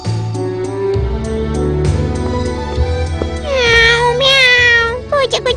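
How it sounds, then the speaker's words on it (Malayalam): A cartoon kitten gives several clear, close meows with rising and falling pitch, set against a busy animated soundtrack of music and effects. "പൂച്ചക്കുഞ്ഞിനെ കാണാൻ നല്ല രസമുണ്ട്"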